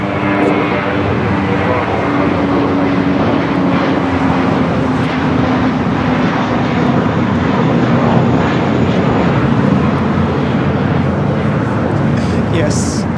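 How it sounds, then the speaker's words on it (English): An American Airlines Airbus A321 takes off for Las Vegas, a loud, continuous jet roar with a steady low rumble that persists throughout, while people talk over it. "Next takeoff is American Airlines 3130, A321 headed out to Las Vegas"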